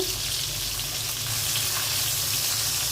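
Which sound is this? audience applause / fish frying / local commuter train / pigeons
fish frying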